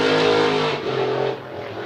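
Racing powerboat Destiny powering out of a turn at Gold Cup practice, a loud roaring engine with strong harmonic tones that climbs then eases, close and without talk.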